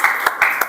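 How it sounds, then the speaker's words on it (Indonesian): A class applauds a presentation group in a brief burst of clapping, a few distinct claps rising from a steady patter of hands. "Kita kasih tepuk tangan dulu untuk kelompok 3."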